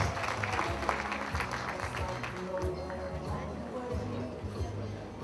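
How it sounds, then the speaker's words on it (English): Applause from guests at a corporate awards gala dinner, a diffuse patter of many hands under music and crowd murmur, fairly faint and continuous throughout. "let's give a huge round of applause to Farm Engineering Industries Limited"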